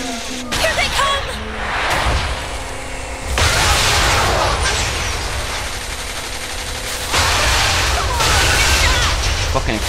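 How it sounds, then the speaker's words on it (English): Loud, close bursts of gunfire and booming explosions from the video game Saints Row The Third, played with mods, coming in rapid fusillades with brief lulls, while a voice speaks over the action. "Fucking explosions everywhere."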